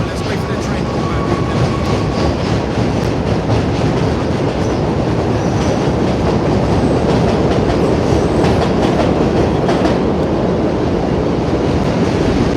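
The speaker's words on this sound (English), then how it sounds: "let's wait for the train to come out" A train rolls past on rails near an outdoor street gathering in Chicago, a loud continuous roar with rhythmic clickety-clack running throughout.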